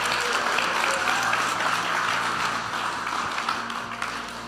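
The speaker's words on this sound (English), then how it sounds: "Let's give our mothers a round of applause." A church audience at a Mother's Day service applauds its mothers with dense, sustained clapping that fills the room evenly for several seconds, a few voices mixed in.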